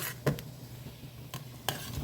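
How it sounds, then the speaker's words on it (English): Strawberry jam at a rolling boil in a pot is stirred, with a few distinct scraping strokes of the spoon over a low bubbling simmer, fairly faint and close. "I'm continuing to stir, and we've got a nice rolling boil happening in here."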